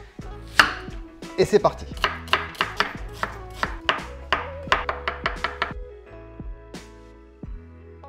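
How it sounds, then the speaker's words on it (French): A sharp kitchen knife chops ingredients for Japanese yakimeshi fried rice on a board in a steady run of about a dozen crisp, close knocks, after a man's brief spoken line over soft background music. "Donc on prend un bon couteau qui coupe"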